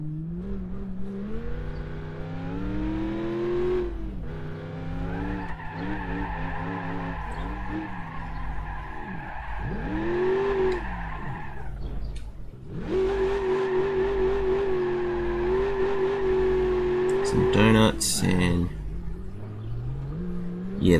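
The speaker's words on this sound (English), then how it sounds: "Yeah, this is a very good vehicle for drifting." A car drifting in BeamNG.drive on a snowy winter course, its engine revving and wavering in pitch as the tires skid and squeal, loud and continuous with only brief dips between runs.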